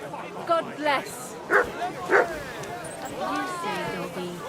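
A dog in the video game Kingdom Come Deliverance 2 gives several short yips and barks with a whimper, heard amid voices and background babble.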